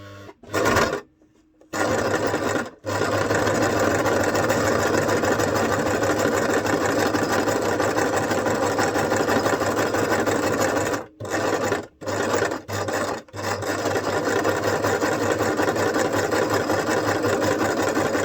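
A sewing machine stitches a multiple-pocket journal book, running steadily and loudly with a dense mechanical whir and a few brief pauses between runs.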